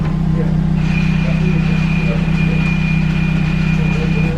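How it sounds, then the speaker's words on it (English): A Subaru WRX STI with a newly fitted twin-disc clutch idles with a loud, steady low drone and a constant high whine, with faint rattling underneath. "That's real race car noises."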